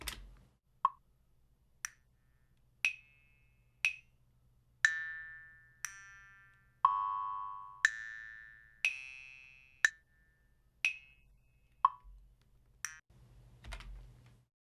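A sound file run through a SuperCollider comb filter with a very short delay and long decay, giving a sequence of about fourteen sharp plucks or clicks, each ringing into a brief pitched tone, spaced roughly a second apart over a low steady hum.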